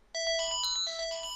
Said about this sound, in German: Klingelton.